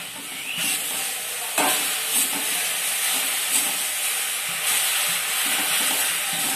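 Fresh jute leaves stir-fry in a pan with turmeric and whole green chillies, giving a steady close sizzle and hiss with occasional scrapes and stirring knocks, and no voices.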